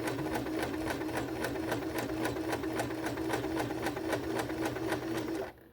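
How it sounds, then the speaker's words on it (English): A sewing machine stitches two fabric squares together with a fast, steady mechanical whir and evenly spaced rapid ticks, close and constant, before it stops abruptly at the end. "And we're going to sew."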